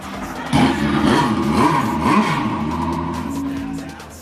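A Porsche RS Spider race car engine fires up in a museum hall and revs hard, with several quick rising and falling throttle blips over a loud, close idle.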